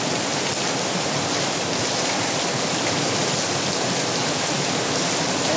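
Heavy rain pours down steadily in a dense, unbroken hiss, with wind adding to the continuous wash of water; the downpour stays loud and even throughout, with no voices.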